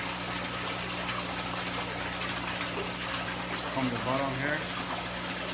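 Water pump circulating water through a home-built shad livewell rated around 4,000 gallons per hour, a constant rushing, gushing flow with a low mechanical hum underneath, while someone talks over it.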